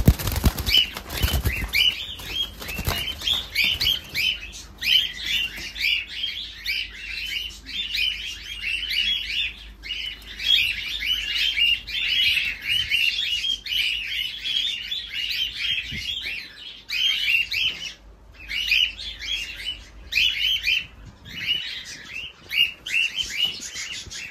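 Cockatiels kept indoors chirping and flapping, with dense, continuous high tweeting from several birds close by and bursts of wing flutter and scuffling, loudest near the start.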